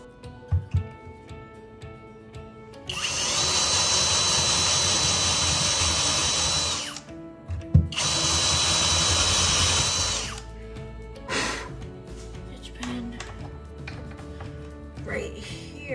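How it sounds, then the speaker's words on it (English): A power drill whirs loudly in two long bursts separated by a short pause, drilling a hole into wood, with some knocking and handling noise around them. "I just need to drill the hole a little bit deeper into the wood"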